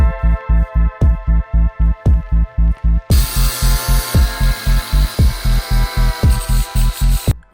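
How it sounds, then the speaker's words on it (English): A power tool cuts sheet metal in a garage with a loud, steady pulsing buzz, rapid regular throbs carrying on throughout, growing harsher and brighter as the cut bites partway through. "We have to copy our template onto that sheet of metal and of course cut it out."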